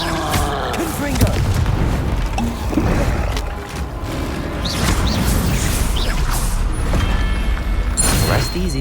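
Continuous explosive booms and crashing blasts from the Confringo fire spell in Hogwarts Legacy fill the scene with loud combat clamor, layered with grunts and voices.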